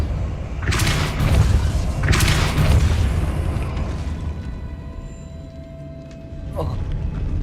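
Depulso spell cast in the video game Hogwarts Legacy: two heavy, booming force blasts with creaking mechanical rumble, followed by a fading tonal hum and a brief sharp thump near the end.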